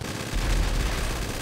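Dense burst of gunfire in a multiplayer shooter video game, loud rapid overlapping shots filling the whole moment with no gaps.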